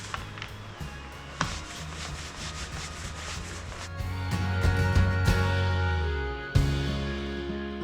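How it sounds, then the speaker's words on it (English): A tapered, rounded hot dog roller spreads oil primer across 11 by 14 painting panels. Its soft rubbing swish runs steadily under a sustained humming tone that swells toward the end. "I'm gonna roll it onto the panels. This one is a hot dog roller"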